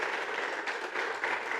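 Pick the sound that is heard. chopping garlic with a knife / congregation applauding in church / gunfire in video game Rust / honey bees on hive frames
congregation applauding in church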